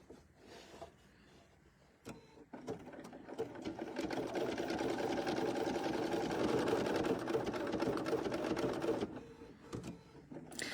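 Sewing machine stitching a quilting project in black Riley Blake fabric, a steady close whirring run of about seven seconds after a few short starts, then it stops.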